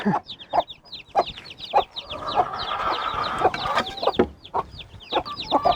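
A mother hen clucks repeatedly to call her Sussex chicks, with sharp rhythmic clucks over a steady chorus of chick peeps close by on a farm.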